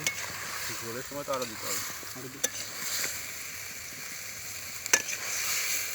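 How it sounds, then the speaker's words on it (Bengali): Potatoes and meat frying in a spice masala, a low sizzle with a few sharp spoon knocks against the pot, while a person speaks briefly near the start. "দেখুন এখানে মশলাতে আপনার আলু আর মাংসটা কষানো হচ্ছে।"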